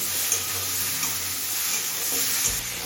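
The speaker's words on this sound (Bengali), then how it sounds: "সব সবজিগুলোকে তিন চার মিনিট ভেজে নিয়েছি" Mixed vegetables seasoned with salt and turmeric fry in a pan, giving a loud, continuous close sizzle with faint stirring scrapes, heard alone.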